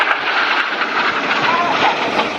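Red Arrows jets perform display flight at the Royal International Air Tattoo, a loud sustained roar of jet engines filling the air.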